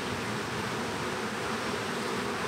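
Honeybees swarm around a nucleus colony hive in a dense, continuous buzzing hum, steady and close with no voices.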